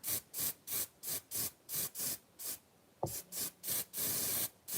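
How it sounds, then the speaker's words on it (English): Cheap hairspray is sprayed as a light coat onto model pine trees in quick, short hissing bursts, about a dozen of them in an even rhythm with brief gaps, close and fairly soft. "Just take some cheap hairspray, all right? Not that I need it. And just give it a light coat."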